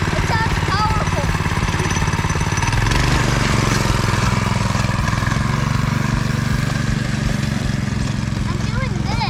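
A 7 horsepower go-kart engine with a torque converter runs loud and steady, its droning rumble continuous throughout as voices talk over it.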